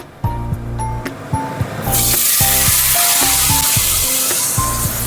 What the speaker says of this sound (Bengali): আর যা আছে এগুলো একেবারে ভেজে নেব।